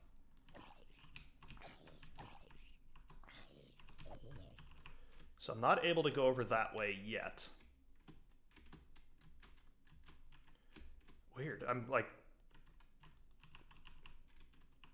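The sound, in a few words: typing on a computer keyboard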